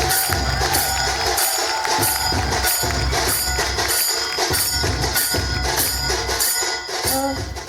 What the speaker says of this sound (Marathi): तर एकदा जोरदार टाळ्या होऊन जाऊ द्या भारत गणेशपुरे सर यांच्यासाठी.